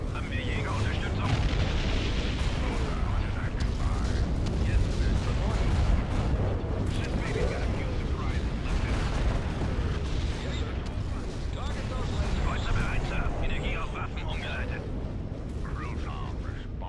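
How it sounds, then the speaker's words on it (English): Artillery fire in the strategy game Empire at War, during an expert-difficulty siege battle against the Rebel Alliance, rolls on as a dense, continuous barrage of heavy booms and rumbling blasts with no breaks. "Artillery, I need you firing on this."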